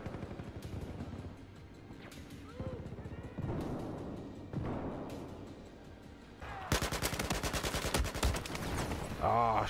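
Gunfire from a Battlefield 4 multiplayer match on PS4 at Hainan Resort: scattered single shots give way to a loud sustained burst of automatic fire near the end.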